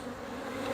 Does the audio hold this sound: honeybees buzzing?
yes